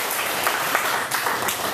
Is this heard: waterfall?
no